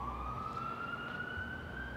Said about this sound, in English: Should we just wait till the sirens go by?